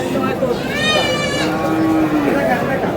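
A dairy cow lets out a loud, drawn-out moo close by, and another lower moo follows amid a noisy crowd of cows, calves and murmuring people at Aftabganj cattle market, Dinajpur.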